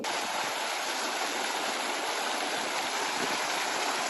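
A mountain stream in the Lake District flowing steadily, a constant broadband rush of water heard close and alone without talk.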